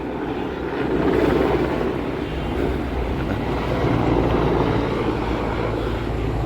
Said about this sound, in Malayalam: ഹെലികോപ്റ്റർ പോകുന്നുണ്ടോ